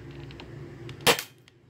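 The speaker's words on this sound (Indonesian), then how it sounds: "Tembakan keempat." A single sharp crack of a custom KAC PDW spring-powered airsoft rifle shot, close and fairly loud, with a brief fading tail against quiet background.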